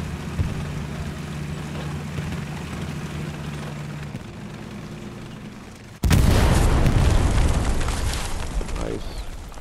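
Satchel charge explosion in the World War II shooter Hell Let Loose, a sudden loud blast erupting over steady background battle rumble and then rolling out into a long, noisy roar.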